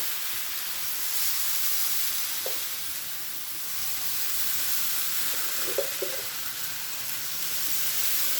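Idli batter hits a hot pan and sizzles steadily in a broad, even hiss. A few faint clinks of utensils come through in the middle.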